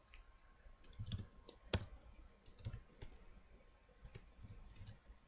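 Computer keyboard being typed on to enter an address into a browser, a quiet, irregular series of close key clicks with short pauses between bursts and no talking.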